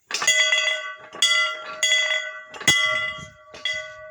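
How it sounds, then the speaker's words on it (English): A bell called old Liberty Bell rung outdoors on a bright morning: five loud, clear strikes at irregular intervals, each ringing out with a long, sustained metallic tone. "I think we ought to ring old Liberty Bell, because it is a beautiful day"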